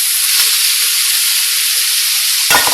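Root vegetables hit a hot pan with a strong, steady sizzle of frying that holds loud and close throughout, with a brief clatter of stirring near the end.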